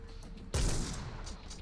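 A loud gunshot blast from the video game Hitman: Blood Money erupts abruptly after a quiet stretch, followed by a long noisy decay and rumbling tail.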